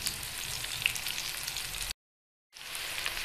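Onions browning lightly in a frying pan give a steady, moderate sizzle with fine crackle, broken by a short silent gap before the frying resumes.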